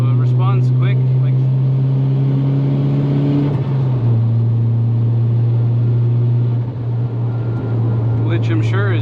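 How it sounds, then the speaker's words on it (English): Turbocharged MK4 VW Jetta wagon with an 8V engine pulling in third gear at half throttle, a steady loud drone that shifts pitch midway, heard from inside the car alongside some talk. "So I'll roll on third here. That's half throttle."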